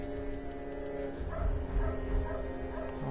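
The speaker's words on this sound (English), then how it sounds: "Oh my god, the dog." A dog yips and barks with short repeated high yelps at the start, then softer whimpering barks follow, moderately quiet under a background hum.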